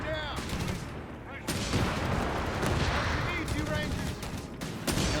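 Artillery and gunfire from the strategy game Company of Heroes 3, a Greyhound armoured car taking shellfire: dense, continuous rumbling explosions and volleys with sharp blasts near 1.5 and 5 seconds, a voice talking over the battle.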